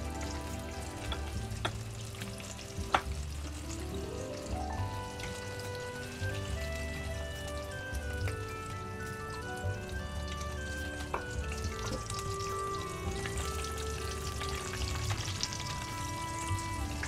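Chicken potato croquettes frying in oil over a low flame, a soft, steady bubbling sizzle with faint crackles throughout, quiet and even with no talking.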